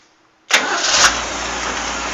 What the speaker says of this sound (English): I'm going to kill it and I'm going to see how easy it cranks back up.